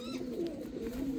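A soft, low pigeon coo murmurs briefly and close, with faint background hiss.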